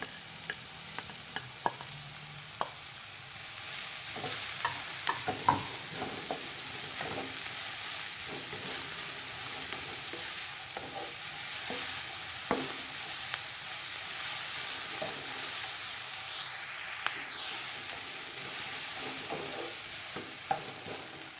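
Chili being stir-fried in a pan while cooking fried vermicelli with shrimp, a steady sizzle with frequent scraping and stirring clicks from the spatula, close and alone with no voices.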